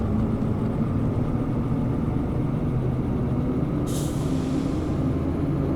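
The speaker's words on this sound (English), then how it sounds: "You hear the brakes fully coming off there." In the Derail Valley train simulator, a locomotive's air brakes release with a sudden sharp hiss of escaping air over a steady loud engine idle rumble, with no voices.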